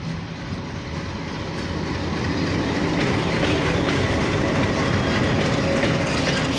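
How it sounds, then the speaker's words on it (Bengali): Locomotive 6555 hauling the intercity Rupsha Express rolls slowly into a station in Bangladesh, a steady, loud rumble of wheels and wagons with faint rhythmic clatter throughout, no voices. "যে ধীর গতিতে আসতেছে, তো এখন আমরা ফোকাস করি। এটা 6555 লোকোমোটিভ।"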